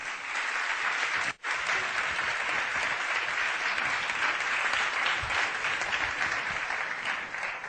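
Sustained loud audience applause at a pre-election university debate, a dense steady clatter of many hands with one brief near-silent break early on, no voices over it.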